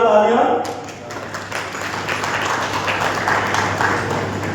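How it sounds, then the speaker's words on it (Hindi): Loud applause from a crowd at an honoring ceremony, a dense wash of clapping that swells after a brief opening voice and carries on steadily throughout. "जोरदार तालियां।"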